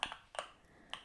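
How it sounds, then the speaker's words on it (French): A few quick, soft keystrokes tap on a computer keyboard, close by and quiet, in two small bursts. "je vais les noter sur mon ordinateur avec le clavier qui est juste là"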